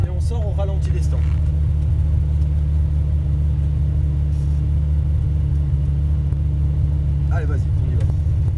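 A car idles with a loud, steady low engine rumble as it pulls out of the pits at idle in first gear, heard from inside the cabin, with a person talking over it at start and end.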